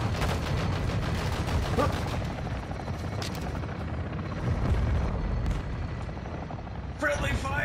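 Gunfire and explosions in Call of Duty: Modern Warfare 2, a dense continuous rumble of shots and blasts with rapid bursts, loud and close, ending in a short electronic beep.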